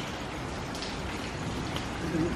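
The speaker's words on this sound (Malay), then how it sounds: "Hujan on my birthday." Steady rain falls in a broad, even hiss, close and unbroken, with a faint voice rising near the end.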